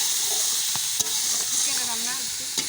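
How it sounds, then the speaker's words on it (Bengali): Chicken frying in a pan while being stirred, a steady sizzle with a few scraping clicks of the utensil, close and continuous with no talking. "চিকেন রান্না হচ্ছে।"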